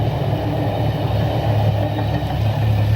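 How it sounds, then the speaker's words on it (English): A train rolling through a level crossing while a cycling race waits, a steady heavy low rumble with rail clatter throughout, loud and continuous with no voices. "Train goes through."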